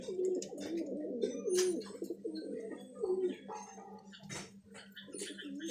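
Kala Sabuj pigeons coo steadily and close by, a run of soft throaty burbling calls over a light background hum with a few scattered knocks.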